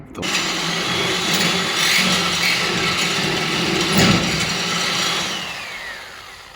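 A power drill whirs steadily at close range for several seconds with a gritty mechanical grind, then winds down near the end, while removing a cross member from a 1935 Chevy Master Deluxe.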